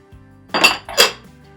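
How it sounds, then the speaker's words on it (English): Diced onions go into a crockpot of beef stew in two quick, close, loud bursts, a clattering rattle of pieces hitting a pot with a faint clink of utensil, and no voices. "we're gonna go ahead and add in the diced onions"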